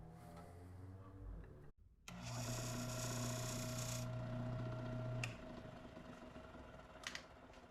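A wood lathe spins steadily while a wooden egg is turned and marked, giving a continuous motor hum with bright broadband whirring; it briefly cuts out, then resumes louder and runs on with a few light scraping touches.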